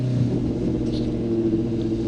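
A Honda CB600F Hornet motorcycle engine rumbles steadily and close while riding in London, a low droning tone that holds without voices over it.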